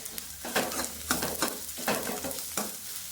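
Onion tempering sizzles in a hot pan while a spoon stirs it, giving a steady frying hiss broken by several scraping stir strokes, close up and without talk.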